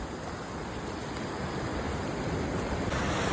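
Ocean waves wash onto a California beach in a steady, broad rushing surf that swells gently louder toward the end, with no voices.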